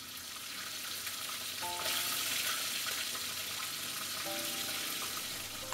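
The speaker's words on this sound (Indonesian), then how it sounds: "Okay, ni minyak dah panas. Kita dah boleh masukkan ikan." Tilapia fried one piece at a time in a shallow layer of hot oil makes a steady, soft hiss and sizzle. It gets a little louder partway through, and no one talks.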